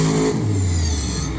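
Kraken monster truck, driven by Nick Pagliaro in a monster truck event at Lebanon Valley, with a loud, close engine revving hard and roaring steadily throughout, its pitch dropping partway through.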